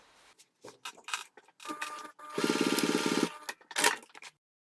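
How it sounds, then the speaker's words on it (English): A sewing machine bastes fabric pieces of a bag in place near a slip pocket, running in one steady, rapid burst of about a second amid quiet handling clicks and rustles. "Now we're going to baste this in place."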